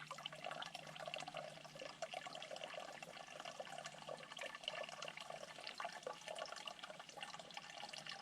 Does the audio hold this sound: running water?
yes